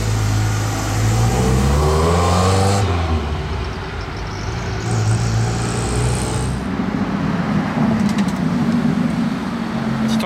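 A Ferrari Daytona SP3 engine revs loudly nearby, rising and falling through gears, then pulls away amid roadway noise with a deep, sustained drone.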